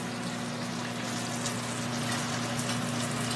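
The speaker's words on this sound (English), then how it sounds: "Do you see it sizzling up nicely?" Steady sizzling of sauce in a hot pan, a continuous crackly hiss with a low hum beneath, fairly quiet and uninterrupted.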